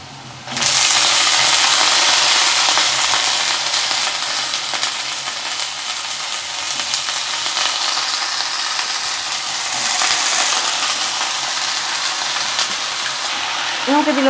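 Washed raw plantain drops into a pan of spluttering mustard seeds and fries in a loud, dense sizzle that holds steady for several seconds.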